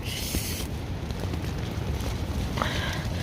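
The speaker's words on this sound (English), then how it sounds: "the wind is blowing the tent so hard this way" Strong wind on a snowy mountain campsite buffets a tent in a steady, loud roar with low rumbling flaps and occasional hissy gusts; no talking.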